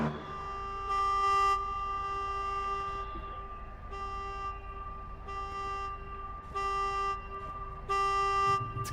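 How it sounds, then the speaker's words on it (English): Repeated car horn toots sound in a Renault Clio Cup sim race at the Kyoto Yamagiwa layout, several honks in bursts over a steady engine drone, no talk. "Someone's found the horn."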